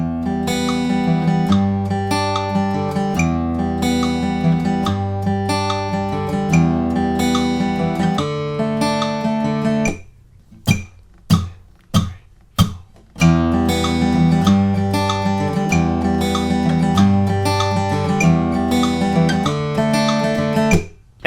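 Acoustic guitar strums the chorus chords of a song in a steady, full-bodied pattern, with a brief gap of a few sharp single strums partway through before the full strumming resumes.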